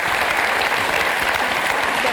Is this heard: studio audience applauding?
yes